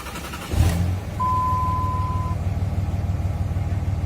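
A 5.9 Cummins diesel engine in a 2003 Dodge Ram cranks and catches, then settles into a steady low rumble, with a brief beep-like tone early on; close and fairly loud.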